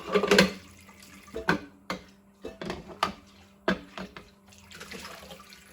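Water splashes out of a washed dish in short bursts, a few sloshing pours and drips into a sink, close by with quiet gaps between.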